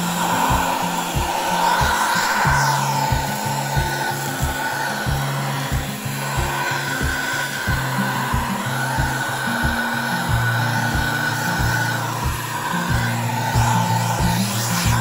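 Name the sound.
Lotus wet and dry vacuum sucking up sand and stones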